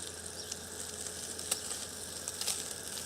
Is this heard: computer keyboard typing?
no